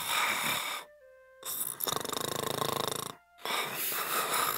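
A storyteller voices a puppet pretending to sleep, imitating loud rhythmic snoring with a long rattling inhale after a brief chime-like tone, up close and otherwise alone.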